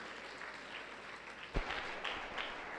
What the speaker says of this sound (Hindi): इसलिए इनके लिए ज़ोरदार ताली बजनी चाहिए